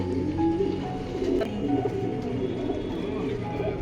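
Pigeons coo at a pigeon keeper's loft, soft, repeated low calls overlapping near and far, with human voices murmuring in the background.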